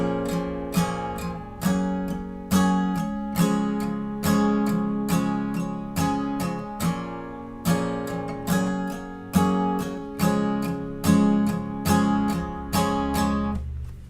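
An acoustic guitar plays the bridge chords of a song with soft, even down strums, a steady rhythmic pulse of ringing chords close up, no voice heard.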